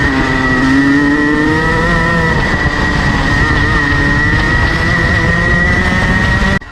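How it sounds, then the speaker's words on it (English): Racing kart engine held at full throttle on a circuit at Clay Pigeon Raceway, a loud steady drone that sags and bogs, losing power while the revs stay flat and strained throughout. "my foot was flat to the floor here, but for some reason the car just bogs and actually loses power there"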